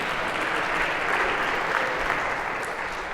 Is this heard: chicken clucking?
no